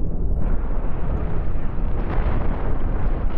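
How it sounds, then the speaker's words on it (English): Missiles exploding against ships in the space game Cosmoteer, a heavy, rumbling roar of blasts that merge into one continuous, loud wash of low booming noise. "these missiles are about to... set off that lot"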